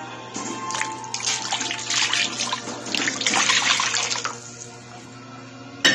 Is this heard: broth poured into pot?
yes